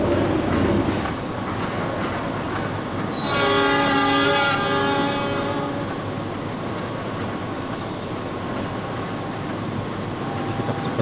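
A train in Trainz Simulator runs straight through Sidoarjo station, its wheels rumbling and clicking steadily while a horn sounds for about two seconds partway through, loud and close.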